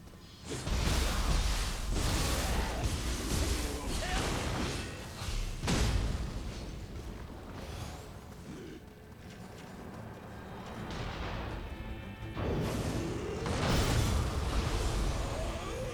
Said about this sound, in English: I was not expecting a huge ass explosion, but I guess that's a thing.